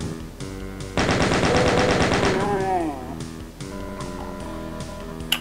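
Rapid weapon fire in Doom on the Sunlust Cave Culture map, a loud burst of close repeated shots for about two seconds, then sporadic blasts and mechanical clanks over a steady game hum.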